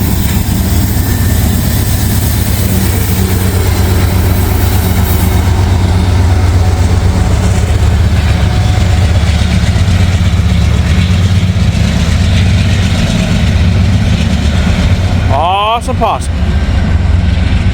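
A freight train with a distributed power unit locomotive rumbles loudly past in Hamilton, a continuous heavy roar of engines and wheels on rails that lasts throughout, with someone speaking briefly near the end.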